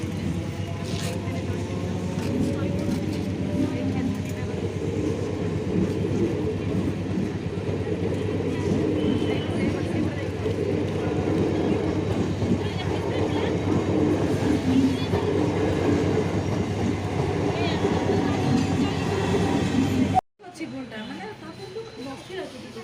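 A passing train rumbles loudly and steadily for about twenty seconds, with a dense clatter that cuts off abruptly near the end, leaving quieter background noise; voices are faintly present.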